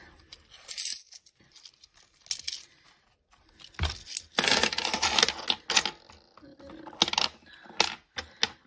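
Metal coins clink and jingle close by as they are handled and counted for cash budgeting, in scattered clusters of bright rattles separated by quiet pauses, with one longer jumbled stretch of sliding and clattering.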